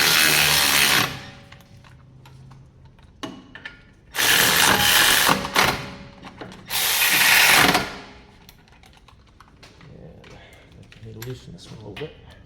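Three loud, close bursts of a power ratchet driving Brembo brake caliper bolts on a Cadillac CT6, each a few seconds long, with quieter clicks and handling noises in the gaps between.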